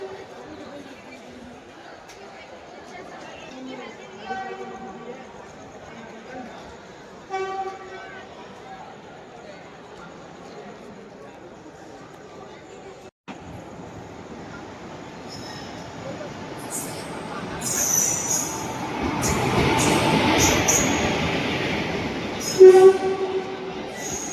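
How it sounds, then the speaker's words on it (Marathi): A long-distance passenger train rumbles into a station, its low roar building to a broad wash of noise before a brief screech, with people talking nearby over it. "आपली आली ट्रेन"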